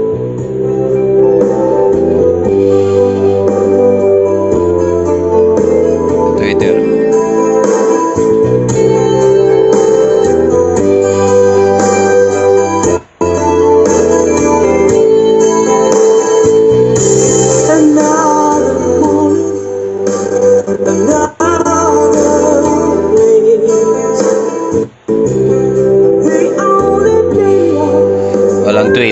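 Bass-heavy music blasting from a newly installed red and black car subwoofer, loud and continuous with thumping low end and a steady beat, broken by a few brief dropouts.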